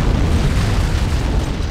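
An antimatter charge explodes aboard a ship in Halo: Combat Evolved, producing a loud, sustained rumbling boom that fills the whole moment with deep, heavy low-end roar.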